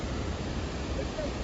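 Niagara Falls pours in a steady broadband roar heard from a viewpoint across the water, constant and full throughout the short moment.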